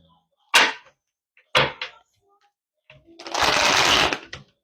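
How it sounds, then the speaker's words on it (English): Playing cards are riffled in quick bursts, two short shuffles followed by a longer, louder one, close up with quiet gaps between. "What's going on with the shuffling tonight?"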